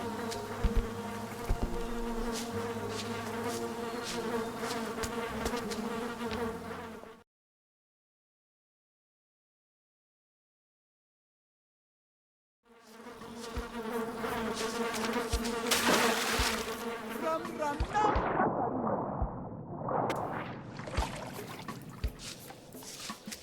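A swarm of bees buzzes loudly in a video game, a dense droning hum that cuts out into silence for several seconds, then returns with the buzzing, which swells and sweeps in pitch as it closes in.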